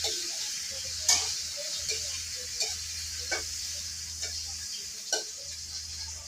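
Spice paste frying in oil on a low gas flame for a small-fish curry, a soft steady sizzle punctuated by several sharp spoon scrapes and taps, close by with no talking.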